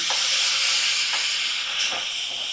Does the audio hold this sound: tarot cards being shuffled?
no